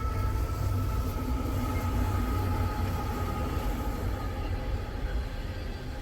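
A loaded coal freight train rolls past on a wintry day near Sandusky and Avery, Ohio, a loud, continuous rumble and clatter of wheels and wagons that holds steady throughout.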